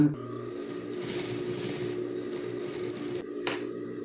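A sewing machine runs a short line of safety stitching through synthetic material while a school backpack is made. It gives a steady close mechanical whirr with rapid needle ticking, and a sharp click near the end.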